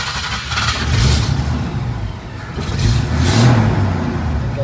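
Toyota Starlet with a swapped 3SGE Beams engine starts and revs. Two loud surges of mid-pitched engine noise swell and ease back, close by, without speech.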